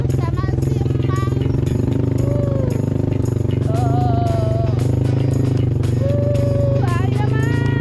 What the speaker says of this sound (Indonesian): Nih, emak lagi naik motor